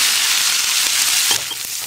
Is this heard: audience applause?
no